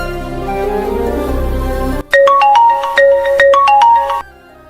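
Phone ringtone plays loud and close, a bright electronic melody of repeated short tones in an uneven rhythm, cutting in after a stretch of background music and stopping abruptly.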